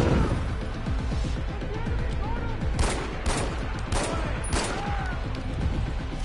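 Gunfire in the Far Cry 4 video game, a dense continuous barrage with several sharper, louder shots cutting through midway, close and steady, with faint game voices underneath.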